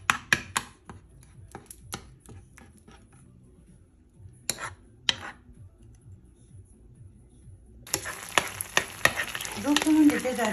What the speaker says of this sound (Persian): سرخش میکنیم تا رنگش باز بشه.